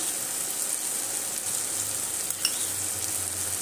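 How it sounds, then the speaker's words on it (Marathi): Sizzling stir-fry of ridge gourd in a pan as crushed peanuts are stirred in, a steady close frying hiss with faint scraping of the stirring throughout. "हेही आपण छान मिक्स करून घेऊ"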